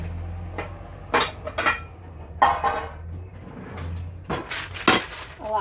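Metal baking pans clatter and clank in a kitchen as a smaller pan is pulled out, several sharp bursts of knocking spread across the moment, near and moderately loud.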